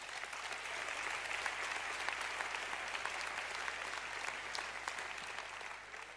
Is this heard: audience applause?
yes